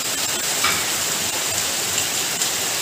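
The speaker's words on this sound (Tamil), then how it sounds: "சூப்பராக மழை கொட்டோன்னு கொட்டிகிட்ருக்கு." Steady downpour of heavy rain drumming on surfaces outdoors, a continuous broad hiss with scattered drop impacts, loud and close, no one speaking.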